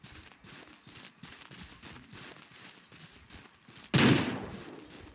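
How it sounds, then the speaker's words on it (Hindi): Gunshots from deer hunting in the video game Ranch Simulator: a series of sharp, quick cracks and rustles, then one loud, booming shot near the end that decays slowly. "फर्स्ट शॉट मिस हो गया, भागते उसके पीछे पीछे जल्दी से।"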